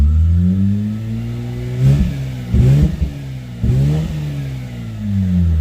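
A Mazda RX-8 rotary engine with a bridgeported Renesis revs up and down in several loud, close bursts, settling back to a steady idle between the throttle blips.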